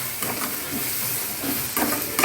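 Tomatoes and curry leaves fry with onions in a pan, giving a steady loud hiss of sizzling oil that swells briefly near the end.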